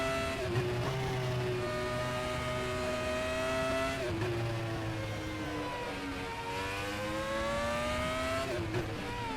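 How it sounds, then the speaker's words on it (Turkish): Continuous engine roar from racing cars in a Star Wars racing video game, with shifting pitch, revving up and down, and faint tire squeal mixed in; no talking. "Lastik sesi mi duyuyorum?"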